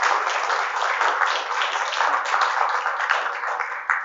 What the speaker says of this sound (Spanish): yo les quiero invitar a que le den un fuerte aplauso al equipo de líderes que hace posible todo esto